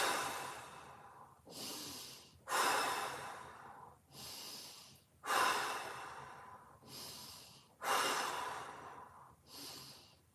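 Slow, deep breaths during a yoga stretch in a mobility class: four long inhale-exhale cycles, each rising and fading in a soft airy rush, close and unhurried with quiet gaps between.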